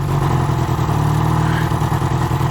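A Royal Enfield-style 440 motorcycle with a wrapped, partly baffled exhaust idles steadily with a deep, throbbing exhaust rumble, close and continuous throughout, with no voices.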